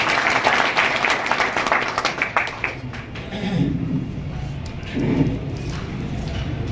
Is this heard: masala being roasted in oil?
no